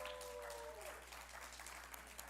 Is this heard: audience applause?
yes